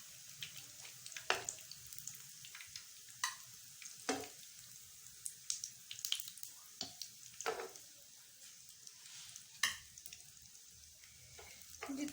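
Chicken potato rolls frying in oil: a soft steady sizzle with scattered sharp pops and spatters, fairly quiet and close, with occasional clinks.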